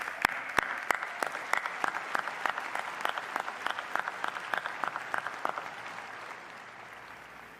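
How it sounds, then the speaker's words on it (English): Sparse applause at a university commencement for honorary degree recipients, heard as distinct individual claps in a steady rhythm over a faint diffuse clapping bed, fairly quiet and thinning toward the end. "A round of applause for these individuals."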